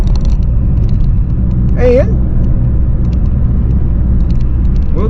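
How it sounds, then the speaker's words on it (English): Steady low road rumble from inside a car being driven and turned around, with someone talking continuously over the engine noise. "we'll turn this car around, go back on through."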